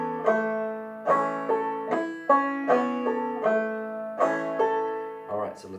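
A banjo plays a drop-thumb pattern with strums, in plucked, twangy notes and bright strummed chords in an even rhythm, played close and alone with no talking over it.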